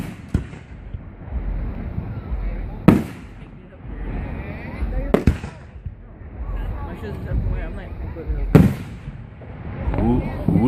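Fireworks at a town celebration burst very close by, with three sharp, loud explosive cracks separated by rumbling crackle, while people talk and react throughout.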